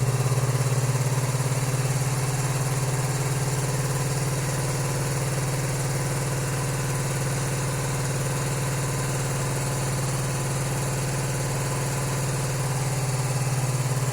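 A cafe racer motorcycle engine idles on choke after a cold start, holding a steady, even low drone with a constant mechanical hum throughout and no voices.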